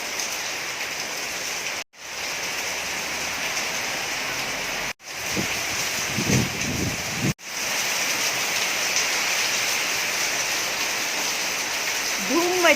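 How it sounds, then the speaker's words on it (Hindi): Steady heavy monsoon rain in Mumbai roars continuously, a dense wash of falling water with a few brief cuts and faint voices underneath. "मुंबई की बारिश मैं आपको दिखा रही हूँ"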